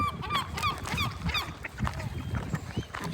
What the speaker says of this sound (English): And here is all the birds.